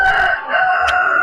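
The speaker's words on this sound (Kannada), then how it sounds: "ಕೋಳಿ ಕಾವೇರಿ" A Kaveri breed rooster crows once at an agricultural fair, a loud, close, drawn-out call with a brief sharp note near the end.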